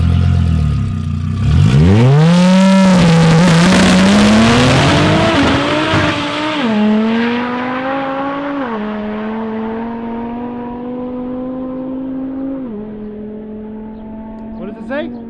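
A 1000+ horsepower front-wheel-drive Audi RS3 launching down a drag strip, engine roaring loud and close with a rising howl and tire squeal, then shifting and fading as it pulls away into the distance.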